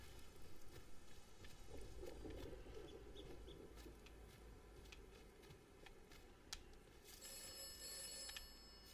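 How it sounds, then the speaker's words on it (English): Telephone in the video game Atomfall ringing faintly in a quiet room, a thin repeated bell over a soft low rumble of ambience, with no talk. "Telephone's ringing."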